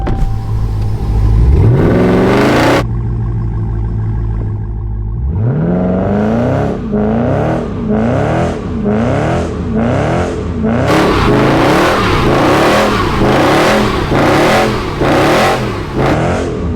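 A Dodge Durango Hellcat and a 392 Scat Pack race on the street, one engine revving up loudly, pausing, then both accelerating hard with a rising roar and rhythmic gear-change surges close to the microphone.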